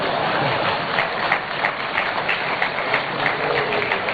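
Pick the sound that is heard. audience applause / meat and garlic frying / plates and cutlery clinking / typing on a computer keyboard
audience applause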